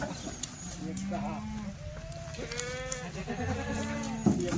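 Kathiawadi goats at a farm bleat several times, their wavering calls overlapping at moderate distance, while people talk in the background throughout.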